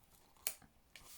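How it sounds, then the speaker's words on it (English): Two quick, crisp snips of scissors cutting backing paper, the first sharper and louder, with a soft rustle of paper between them, close by and quiet. "actually I prefer to use my scissors."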